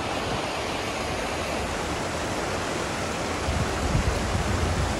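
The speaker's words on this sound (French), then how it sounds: "on a trouvé une petite cascade" A small waterfall pours in a steady, loud, broadband rush that stays constant and close throughout, with no voices.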